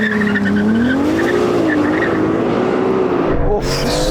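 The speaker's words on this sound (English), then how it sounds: "Right, let's start off with a drag race." A Porsche 911 Turbo S and a Ferrari 296, a 3-litre V6 hybrid, launch in a drag race, loud engines rising in pitch with tire squeal near the start, then a sudden shift in tone near the end.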